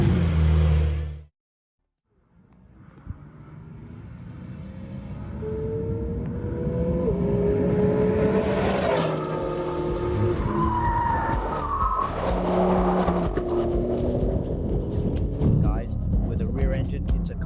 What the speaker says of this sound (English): This twin-turbo six-cylinder boxer has tremendous torque, has the push of a race car